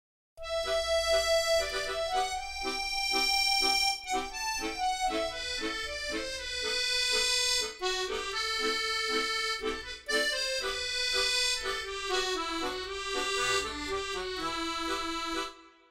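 An EastWest Gypsy musette virtual accordion plays a lively tune, with steady rhythmic left-hand chords under a right-hand melody, sustained and full, no talk.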